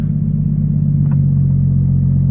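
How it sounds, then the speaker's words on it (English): A BMW 135i with a big turbo six-cylinder and no muffler idles with a loud, deep, steady rumble close by, a brief flutter midway and no speech. "there's no muffler. It's just a big turbo, a six cylinder that revs to the moon."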